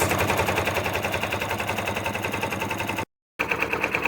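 An embroidery machine sewing a satin stitch on a towel, a rapid, regular mechanical clatter of needle strikes that runs steadily, stops briefly in a short silence, then resumes.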